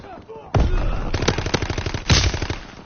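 Gunfire in Call of Duty WW2, a loud burst of rapid automatic shots followed by another sharp blast, close and harsh, with faint game sounds before the shooting starts.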